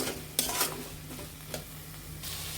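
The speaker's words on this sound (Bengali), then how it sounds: "আমাদের আলুগুলো আর একটু কষিয়ে নিতে হবে" Spiced potatoes sauté in a pan for a prawn curry, a spatula scraping and clattering against the metal in a few bursts over a low, constant sizzle.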